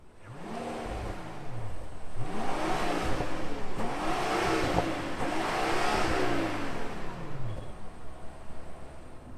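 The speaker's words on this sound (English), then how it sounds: "so we're still gonna rev it anyway." A 2021 Rolls-Royce Ghost's engine revved while parked, four or five smooth rising-and-falling swells in a row, close and fairly loud, then settling back to a quiet idle.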